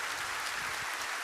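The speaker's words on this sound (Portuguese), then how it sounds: "Você pode dar um aplauso ao Senhor por essa verdade?" Church congregation applauding at a Sunday morning Baptist service, a steady dense wash of clapping filling the short stretch with no voices over it.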